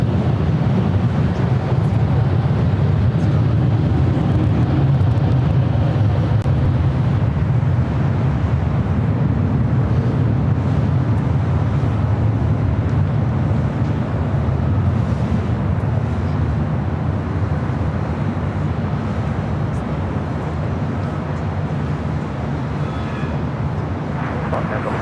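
Heavy Boeing 787 Dreamliner jet departing a runway at LAX, a steady, loud low roar of engine thrust that holds for the whole stretch, with broadband rumble and some wind buffeting and no voices.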